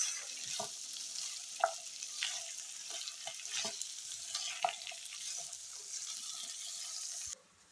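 Sugar being stirred into beef pulao (Kabuli Afghani style) in a pot: a steady hissing sizzle under scattered scraping spoon knocks, moderately close, no talk, ending abruptly.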